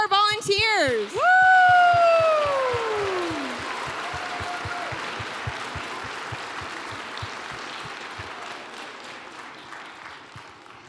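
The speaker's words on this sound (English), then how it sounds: "So let's give a round of applause for our volunteers." At a Native arts festival, a crowd breaks into applause for the volunteers, with loud whoops and cheering at the start before clapping carries on steadily and slowly fades.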